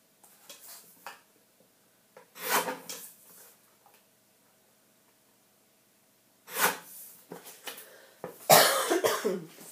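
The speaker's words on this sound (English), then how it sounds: "Sorry for coughing." A person coughs in a quiet indoor room in several separate fits, close and loud, with short silent gaps between bursts and no speech.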